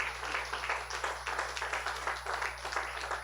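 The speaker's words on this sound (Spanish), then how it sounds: "Yo le daría un aplauso al Señor." A church congregation gives a soft, rhythmic round of applause for the Lord, even claps repeating steadily at a distance for a few seconds.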